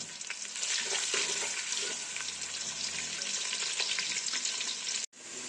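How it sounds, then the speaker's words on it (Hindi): A chopped medium onion fries in hot oil with a constant loud crackling sizzle. It breaks off for a short moment near the end and then starts again. "अब मैं ऑयल में एक दरमियानी प्याज डाल दूँ कटी हुई"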